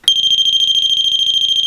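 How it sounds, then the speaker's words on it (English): A door-stop alarm, triggered by pressure on the wedge, lets out a loud, piercing, steady high-pitched electronic tone that starts abruptly and holds continuously. "So when pressure is applied on this part of the door stop, the alarm goes off."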